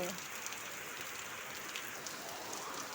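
Steady, dense rain pours down on a rainy morning, a continuous even hiss with no pauses, close and fairly loud throughout.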